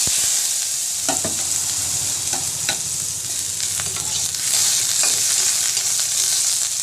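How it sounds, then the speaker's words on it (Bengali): Loud, continuous sizzle of potatoes frying in a pan, with repeated scraping and stirring noises over the hiss and no voices. "এবার আমি কড়ার মধ্যে দিয়ে দিচ্ছি আলু"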